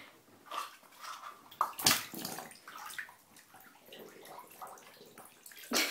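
Bathwater sloshes and splashes in a bathtub while a pet is bathed. The splashes come in irregular, close bursts, with a sharper splash near the start and another at the end.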